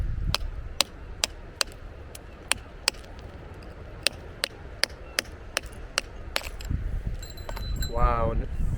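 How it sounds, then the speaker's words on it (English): A chisel is struck repeatedly into a clay-embedded rock nodule near a waterfall, giving sharp metallic taps in an irregular rhythm over a steady rush of water, with a brief rising squeak near the end. "I'm going to get my chisel in and hopefully see what's on the inside of it"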